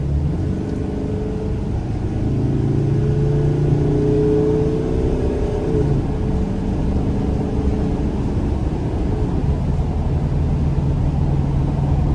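A 2014 Mercedes Sprinter van with a 2.1 twin-turbo four-cylinder diesel pulls out of a corner, engine note climbing steadily then settling into a loud continuous cabin drone, heard from inside with no talk.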